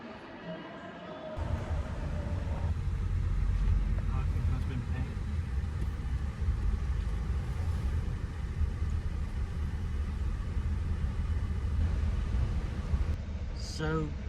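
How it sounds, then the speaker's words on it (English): A steady, loud low rumble of a car carrying passengers on a Midlands road trip, heard from inside the cabin. The rumble begins after a brief quieter start and stays even and continuous throughout. "We're literally just driving off now."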